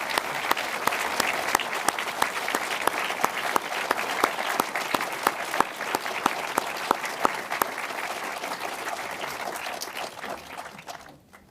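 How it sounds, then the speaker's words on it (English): An audience applauds volunteers from Extreme Noise Records at the close of a talk, with dense, steady clapping that holds for about ten seconds before thinning out at the end. "Do you want to stand up and we'll applaud, and that'll be the end of our talk?"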